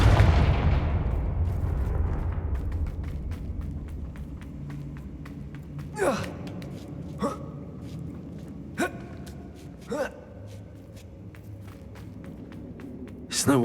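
Confringo blasting spell explosions in the video game Hogwarts Legacy: four or five sharp, booming blasts spaced a second or two apart, rising over a steady low ambient game rumble.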